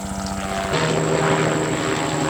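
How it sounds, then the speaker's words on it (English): A helicopter's rotor roar fills the air, a dense steady whirring drone that swells slightly as it passes overhead. "Every time I shoot, a helicopter just so happens to fly by"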